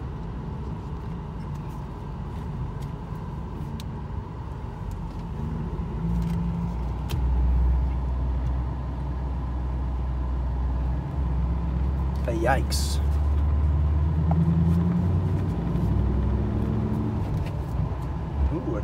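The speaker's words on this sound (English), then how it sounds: "a truck with a fifth wheel camper pulling a boat" A pickup truck pulling a fifth wheel camper and a boat rolls past on a dusty rural road, its low engine and tire rumble swelling steadily and lingering for several seconds, with a voice briefly heard.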